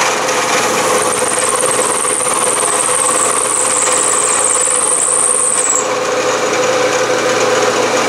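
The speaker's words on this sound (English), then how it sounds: "I'm back in the milling machine" Milling machine cutting shallow slots in a lead hammer mold, a steady loud machining whine and hum with a high cutting tone that holds for several seconds and then drops away, no speech.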